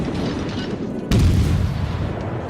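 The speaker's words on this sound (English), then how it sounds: "Gonna fire off our 4 shells into there." A Soviet Tier I cruiser, the Orlan, fires its main battery shells in World of Warships with a single heavy boom. The boom cuts sharply through a constant low engine rumble and leaves a dense, booming tail.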